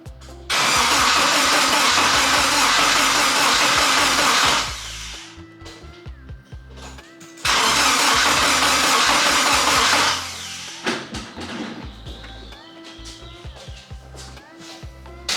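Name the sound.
BMW E30 with K24 engine cranking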